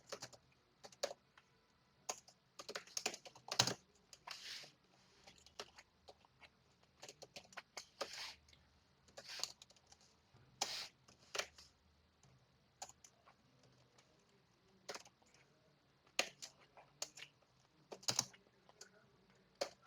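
Quick, irregular bursts of keystrokes on a computer keyboard while C++ code for reversing an array is typed, close and fairly soft, with short pauses between runs of clicks and no talking.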